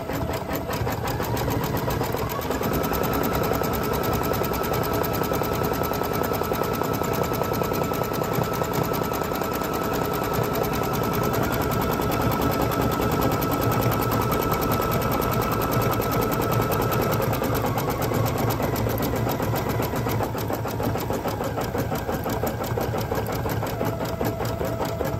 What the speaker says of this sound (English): Machine does stitches that are much larger